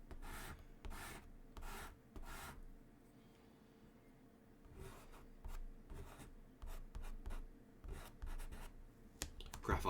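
A fragile graphite stick drags across paper in short, dry scratchy strokes, some in quick bursts and others longer and rubbing, close and quiet with no voices.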